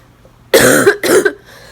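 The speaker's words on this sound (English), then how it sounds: "My lungs hurt so bad just coughing" Two harsh, wet coughs in quick succession from a person with cystic fibrosis whose lungs hurt. They are close and loud, with a short gap between them, and a faint breathy tail follows.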